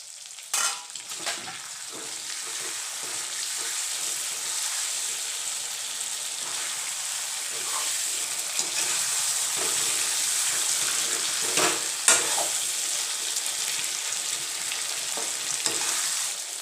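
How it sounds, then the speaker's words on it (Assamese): Meat and tomatoes cook under a lid in a pan, giving a steady close hiss of simmering and sizzling for the whole stretch, with a few faint clicks and knocks. "এতিয়া এইখিনি ঢাকন মাৰি ভালকৈ সিজিবলৈ দিছোঁ।"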